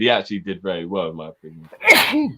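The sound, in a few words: sneeze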